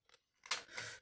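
Scissors cutting a paper arabesque shape for decorating a small notebook: a couple of faint snips, then two longer crisp cuts, close and alone.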